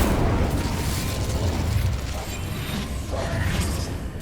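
Incendio fire spell cast in Hogwarts Legacy, a broadband roaring burst with crackling pops and mechanical clatter, loud and continuous throughout without speech.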